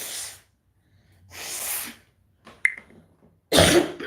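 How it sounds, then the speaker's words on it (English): A person sneezes up close in a quiet room, with a couple of breathy intakes beforehand and one sharp, forceful sneeze near the end. "I gotta sneeze."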